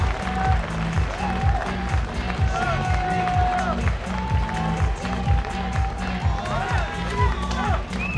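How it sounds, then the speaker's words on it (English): A loud arena crowd at an archery World Cup in Moscow, cheering and clapping steadily with a rhythmic stomping beat underneath, continuous throughout and under a commentator's voice. "Cue the crowd. It will be at its loudest, of course, here in Moscow"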